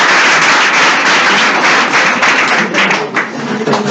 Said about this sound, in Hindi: इनके प्रयास के लिए एक बार आप ताली बजाएंगे।